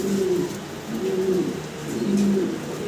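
Cream bar coloured pigeons on a breeding farm give low, rolling coos, roughly three clear calls repeating at an even pace, close and distinct over quiet background noise.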